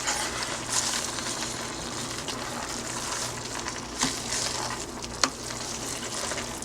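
Vegan Hoppin' John being stirred in a pot, a steady wet, bubbling hiss with soft scraping throughout and a couple of brief clinks, close and continuous with no talk.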